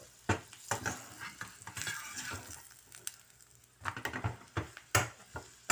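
A paratha fries in butter and oil with soft sizzling, broken up by bursts of scraping, tapping and clattering as a spatula works it around the pan.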